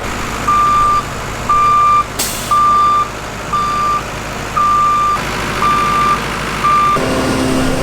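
A large concrete truck idles nearby while its reversing alarm beeps steadily, about seven evenly spaced tones, with a brief hiss of air brakes partway through.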